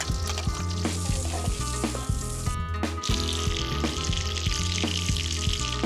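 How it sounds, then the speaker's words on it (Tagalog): Whole wild mushrooms sauté in a pan with garlic and onion, a steady close sizzle of frying with occasional stirring clicks, over faint tonal background music. "Ang buong maili, iginisa sa bawang at sibuyas."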